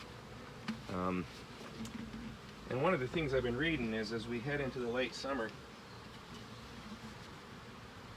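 Honey bees buzz around an opened hive with a honey super after the upper cover is lifted off. The buzzing runs steadily close by under someone talking.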